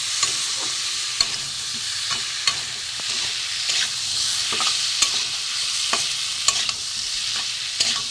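Boiled yam and potato stir-fried with spices in a pan, heard as a loud, constant close-up sizzle broken by regular soft taps and scrapes of a stirring spoon, with no voices.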